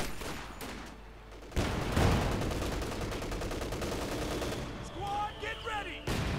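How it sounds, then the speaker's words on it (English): Mortar fire in the strategy game Company of Heroes 2 comes down amid rattling bursts of gunfire and sharp impacts, loud and busy for several seconds after a quieter opening, with a brief whistling tone near the end. "Mortar fire going down."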